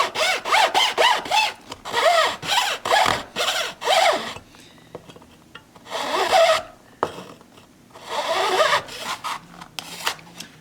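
A small razor saw cuts wood for a custom 12-string Rosa dreadnought guitar, with close, rasping back-and-forth strokes in quick rhythmic runs and short pauses between bursts, and no voices.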